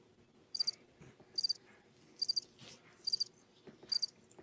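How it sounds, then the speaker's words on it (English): Crickets chirp in short, evenly spaced trilled bursts, five in a row, high-pitched and clear over a faint low background hum. "I hear crickets."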